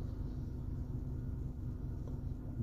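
A car engine idles during a steering angle sensor basic settings procedure, giving a low, steady, fairly quiet rumble with no voices over it.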